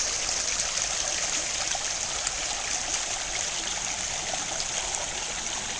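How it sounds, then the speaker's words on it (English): Little Weaver Creek, a mountain stream running through old tailings near Weaverville, rushes steadily with a continuous bright hiss and faint gurgles, close by and even in level, with no voices. "But look at this creek."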